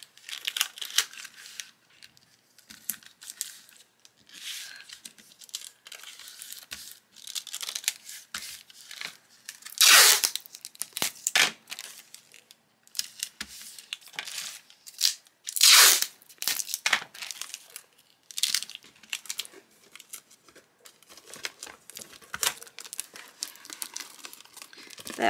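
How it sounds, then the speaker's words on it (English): Paper crinkles and crunches as a book cover from a Little Golden Book is folded over to form the spine, with repeated close rustles and a few louder crisp bursts throughout. "And then we'll fold that over on that side."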